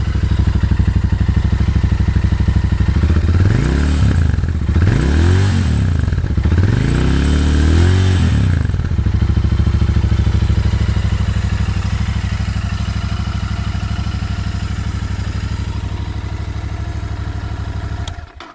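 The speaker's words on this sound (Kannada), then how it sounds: "ಇವಾಗ ಒಂದ್ಸಲ ರೇವ್ ಮಾಡ್ತೀನಿ ನೋಡಿ ಯಾವ ಥರ ಸೌಂಡ್ ಅನಿಸುತ್ತೆ ಅಂತ." A Royal Enfield Continental GT650 twin-cylinder motorcycle idling close by, blipped through three quick rising and falling revs before settling back to a steady loud idle.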